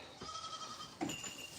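Goats on a farm with other livestock give a bleat at moderate distance, a wavering cry followed by a louder, shorter call near the end, over steady outdoor background noise.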